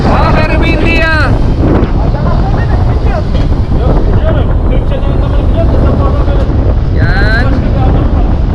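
Strong wind buffets the microphone on a ship's deck at sea, a loud, constant roar with low rumble throughout, with a few faint voices briefly heard under it.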